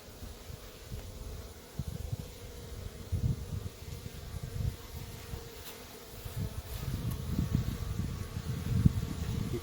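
Honey bees pouring out of a large hive in a steady, moderately close buzzing swarm, with rumbling surges building toward the end.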